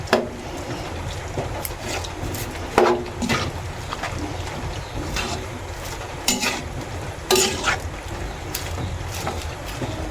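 Utensil stirring and mashing sinantol with fish in a pan, a steady scraping and clattering texture with several sharper knocks spread through the clip, close and fairly loud with no talk.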